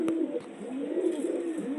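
Pigeons in a home loft coo softly and repeatedly, a low rolling warble heard close but quiet, with no talk.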